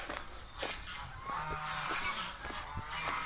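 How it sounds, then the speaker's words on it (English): Several geese honk loudly and repeatedly, close by, their harsh calls overlapping in an agitated chorus. "I seem to have freaked out the geese."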